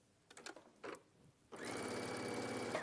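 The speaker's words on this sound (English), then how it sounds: "we're going to sew these together now" Sewing machine stitching fabric pieces together, starting after a few soft handling taps and then running as a steady, close mechanical whir that continues to the end.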